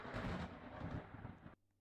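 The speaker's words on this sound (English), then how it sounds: "Oh, there's thunder!" Thunder in a Mosport racing game rolls in as a broad, loud rumble that swells and then cuts off abruptly near the end, with no voices over it.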